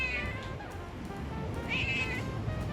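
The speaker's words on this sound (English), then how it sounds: "Wow, a lot of stray cats here." Stray cats on a quiet trail on an overcast day in Okinawa, Japan, meowing repeatedly at close range over a steady low outdoor rumble.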